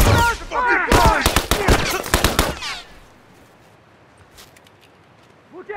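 Gunfire in The Last of Us Remastered: a rapid burst of loud, close shots with voices over it, then the fire stops and a quiet stretch follows.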